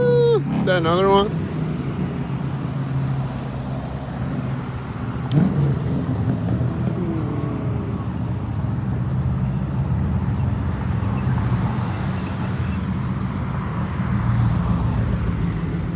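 A car engine rumbles past on a roadway amid steady traffic noise, with a horn-like tonal burst at the start and a brief clunk midway, and voices heard over the din.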